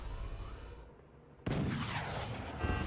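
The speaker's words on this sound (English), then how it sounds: "Cannon is ready. Are we going to see it fire right away?" Cannon firing in the real-time strategy game Forts: a single sudden, loud booming blast midway through, then a broad roar and rumble trailing off.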